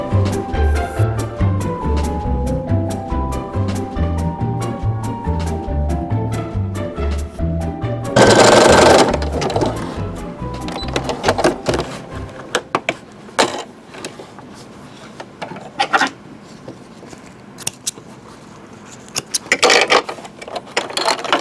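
A Brother SE625 embroidery machine stitches a rope bowl design with heavier thread, its rapid mechanical needle rhythm loud and close, then a sharp burst of whirring before the stitching gives way to sparser clicks and knocks.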